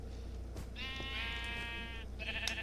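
Sheep bleating in a video game, a long wavering bleat followed by a shorter second one over a steady low background hum, with no talking.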